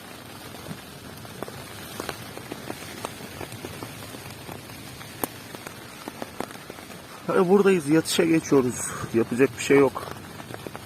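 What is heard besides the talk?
heavy rain on a tent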